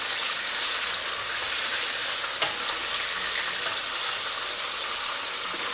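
Fish fillet pan frying in very hot oil, a steady, bright sizzle and crackle close up, constant throughout with one small pop midway and no talking.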